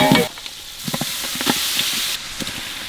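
Onions, tomatoes, green chillies, cloves, pepper and coriander leaves fry in oil for a sweet watermelon mutton curry. A loud close sizzle carries quick spoon scrapes and stirring knocks, with no voices.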